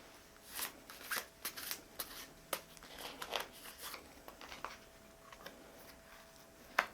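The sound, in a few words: shuffling and drawing soul cards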